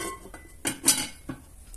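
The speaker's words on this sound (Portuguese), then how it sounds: "Agora é só tampar," A lid is set onto a metal pan holding batter for a polvilho (tapioca starch) cake, producing a couple of close clanks and a light metallic rattle in quick succession, without speech.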